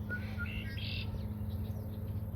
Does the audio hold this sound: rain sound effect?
no